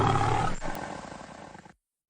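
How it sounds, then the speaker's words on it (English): A big, loud animal roar from a cartoon, a lion-like cry that starts at full strength, then weakens and rumbles down before cutting off into silence. "That's definitely a big roar, alright."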